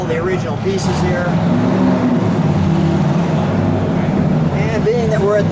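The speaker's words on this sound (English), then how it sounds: "it's going to be a little loud in the background because we've got muscle cars pulling in" Muscle cars arriving at the Muscle Car and Corvette National show rumble and rev steadily in the background, with a voice talking over the engine noise throughout.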